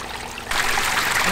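Water from a pump-driven pondless waterfall on a test run, first a soft trickle, then a sudden louder rushing stream as the flow picks up and continues steadily.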